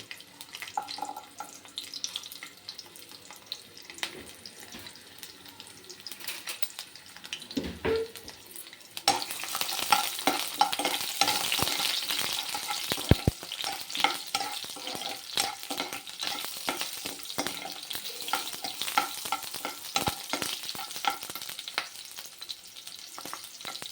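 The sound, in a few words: ginger and garlic frying in hot oil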